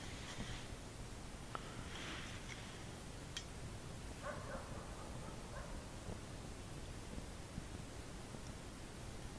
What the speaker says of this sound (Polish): Psy pracują. Myśliwi mówią, że pracują, to znaczy szczekają.